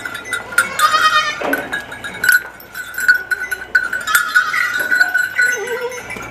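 Goats on a goat farm in India bleat repeatedly, some wavering and close, others farther off, mixed with clanking bells and general pen noise.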